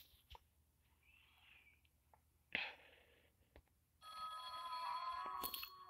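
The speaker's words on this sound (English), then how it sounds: "why does the phone keep ringing in this room?" Telephone ringing inside a room in a horror video game, a bright electronic bell ring starting late and sustained, faint and somewhat distant, preceded by quiet ambient thumps.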